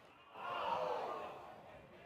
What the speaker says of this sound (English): You heard that cry from the crowd.